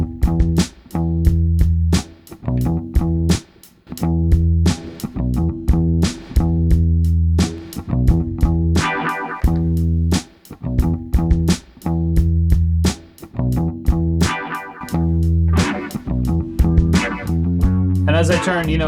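A hip hop verse beat plays from a Roland SP404 mkII sampler with SX reverb, 303 vinyl sim and compressor effects: punchy kicks and snares in a steady loop over heavy sustained bass, loud and close with no talking.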